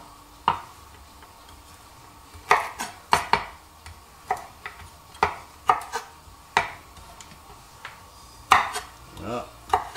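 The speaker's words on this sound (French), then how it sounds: "On coupe les racines." A knife cuts the roots off carrots on a board, giving about a dozen sharp, close chops at an irregular pace over a quiet background with no talk.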